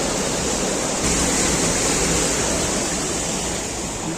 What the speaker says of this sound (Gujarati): અને આ તળાવમાં જાય છે અહીંથી પાણી